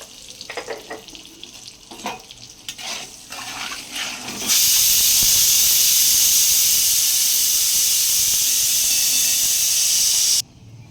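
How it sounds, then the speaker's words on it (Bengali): A pressure cooker of dal on a kitchen stove lets out a long, loud, steady whistling hiss of steam that starts suddenly after a few quieter kitchen clinks and stops abruptly. "পাশে প্রেশার কুকারে ডাল বসিয়েছি তাই সিটি পড়ছে"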